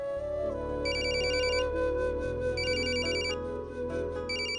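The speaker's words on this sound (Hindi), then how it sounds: "इस वक्त किसका फोन होगा?" A phone ringtone plays a repeating electronic melody, with bright beeping bursts coming in regular cycles over a sustained tone, loud and close.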